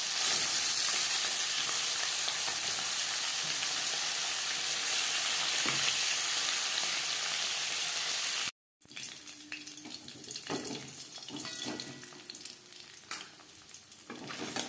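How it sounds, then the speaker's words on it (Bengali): Tangra fish fry in hot oil in a wok with a loud, dense, continuous sizzle, followed after a brief gap by softer crackling and the scrape of stirring. "প্রথম ব্যাচের মাছ আমি কম করেই ভেজে নিলাম, কারণ তখন কড়াইয়ের তাপটা ঠিকঠাক থাকে না"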